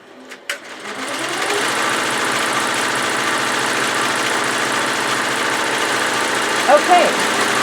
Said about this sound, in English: when this finishes sewing this down, I am going to pause the machine